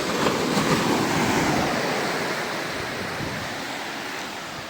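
Steady roaring wash of sea surf, loud and broad, swelling slightly then easing, with no voices.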